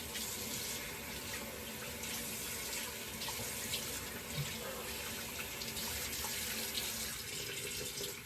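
Tap water running steadily into a sink for rinsing during a wet shave, a continuous close hiss and splash with no break and no talking.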